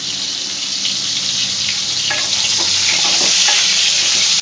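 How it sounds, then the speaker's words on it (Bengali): Pieces of pointed gourd (potol) fry in hot oil in a pan, giving a loud, steady, close sizzle with some stirring scrapes mixed in, without any voices. "তেলটা গরম হয়ে গেছে, পটলগুলো সব আমি দিয়ে এর মধ্যে ভেজে নেব।"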